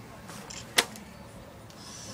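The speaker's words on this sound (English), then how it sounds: "Another arrow. See if it hits." An archer looses an arrow in a single sharp snap of the bowstring, brief and close against a quiet outdoor background, followed by faint lighter rustles.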